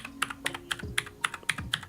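Keys on an old mechanical keyboard click in an even rhythm of about eight sharp, close strokes, with a faint low hum underneath.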